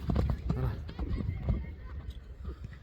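A Kyrgyz ulak horse being ridden fast, its hooves clip-clopping in a quick, uneven rhythm under nearly continuous loud talk from people close by.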